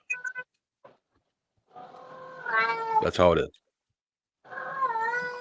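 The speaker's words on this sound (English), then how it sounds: "The cat is answering." A cat meows several times indoors, short calls at first, then a long drawn-out yowl, with a pause before another long meow; a person speaks briefly between the calls.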